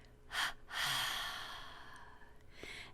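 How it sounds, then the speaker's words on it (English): A slow, deep breath drawn in through the nose, then a long, forceful exhale during a guided relaxation meditation, close and clear, with a few quieter breaths afterward and no talking. "Take a deep breath in through your nose. Hold it for a few moments, and then just throw the breath out."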